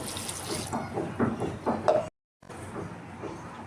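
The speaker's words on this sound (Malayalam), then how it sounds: "ഇനി നമുക്കിതിലോട്ട് ഒരു ഗ്ലാസ് വെള്ളം ഒഴിച്ചോളൂ." A glass of water is poured into jackfruit cooking in a pressure cooker, a splashing, gurgling pour of about two seconds that cuts off sharply. A brief silence follows, then quiet kitchen background.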